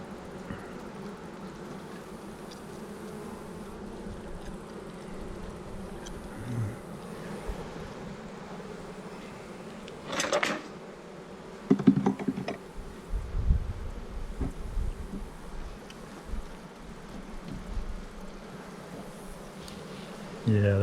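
Honeybees humming steadily inside an open Super beehive box, a low continuous drone with a few brief louder bursts of handling and movement close by.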